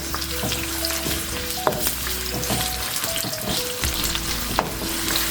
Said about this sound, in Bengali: অ্যাড করে দিচ্ছি চপ করে রাখা অনিয়ন। হালকা একটু ভেজে নিব।